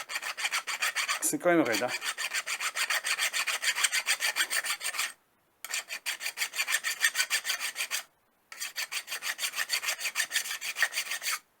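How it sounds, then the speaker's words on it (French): Hand filing on hard steel while cutting a homemade 1/4 inch tap, a fast rhythmic rasp of repeated close strokes in three runs separated by short pauses, with a brief spoken remark near the start. "On voit quand je lime, c'est dur"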